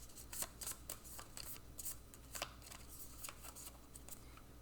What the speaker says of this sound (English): but we'll do some more shuffling on camera